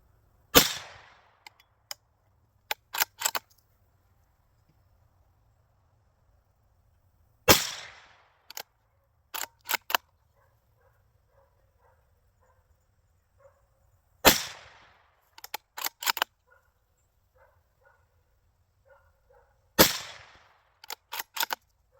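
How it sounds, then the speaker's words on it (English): Savage Axis rifle in .350 Legend firing outdoors, four loud sharp shots with echoing decay spaced several seconds apart, each followed by quick metallic clicks of the action cycling, no talk. "Today we're shooting the Savage Axis in 350 Legend."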